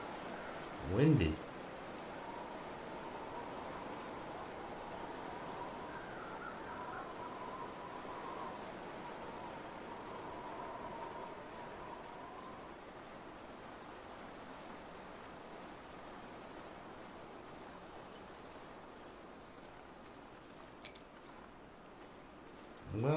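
A low, steady rush of wind blowing continuously in the game The Long Dark, soft and even, with a couple of brief louder thumps at the start and end.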